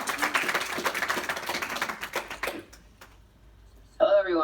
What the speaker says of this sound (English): So everybody, you know, big applause.